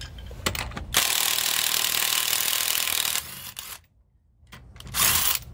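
Lug nuts come off the rear wheel of a 2016 Ford F-150, a loud close burst of power-tool whirring lasting a few seconds, then a brief silence and another short burst.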